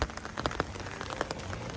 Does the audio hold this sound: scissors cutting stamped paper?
no